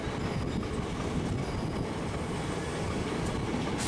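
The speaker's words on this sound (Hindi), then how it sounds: "hello rail fans, this is Kamakhya Puri express with Lala गुडवा WAP-7" Kamakhya Puri Express hauled by a WAP-7 electric locomotive passes close by on Eastern Railway, a loud, steady rumble of rolling railcars with wheel clatter and faint squeal throughout, with no speech.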